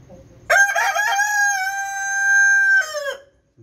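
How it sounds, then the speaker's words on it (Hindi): A rooster in a lit backyard poultry setup at night gives one loud, close, drawn-out crow lasting nearly three seconds. There is quiet before and after it. "देखिए जी मेरे मुर्गे मेरी बात भी मानते हैं"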